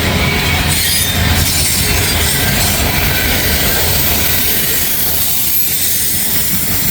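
A long CSX mixed manifest freight train rolls past close by on Kentucky track, a loud continuous roar of wheels and cars with a steady hiss and faint squeal throughout.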